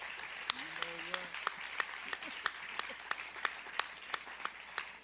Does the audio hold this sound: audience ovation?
yes